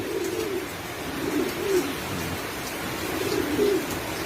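Racing pigeons coo in a loft during steady rain, their soft repeated calls rising and falling over a constant wash of rainfall.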